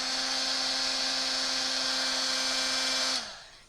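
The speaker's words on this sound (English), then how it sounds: "the heat tool heats up" A heat tool whirs with a steady high-pitched fan-and-motor drone while embossing a holiday card, running loud and close, then spinning down and cutting off near the end.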